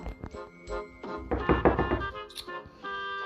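Knocking on a door in the video game Avatar World: a few quick thunking raps with a light tinkling chime mixed in, close and fairly quiet, with no talk over them.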